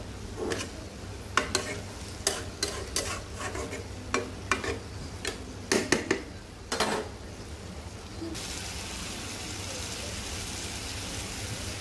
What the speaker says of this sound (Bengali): ভাজা ভাজা হয়ে যাবে, তেল উঠে যাবে